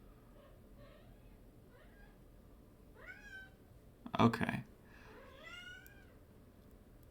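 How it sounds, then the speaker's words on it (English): Pet cats meow several times close by, with drawn-out rising and falling cries over a low steady background hum, and a person briefly says a word between the calls. "my cats aren't too noisy here, because they are meowing"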